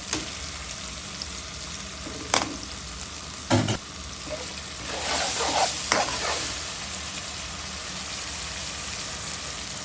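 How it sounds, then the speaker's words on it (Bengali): Ginger-garlic paste sizzles in hot oil in a pan for a mixed fish curry. A steady frying hiss runs under a few sharp utensil knocks and scraping stirs, with stirring louder midway. "দিয়ে দিলাম আদা রসুনের পেস্ট একসাথে।"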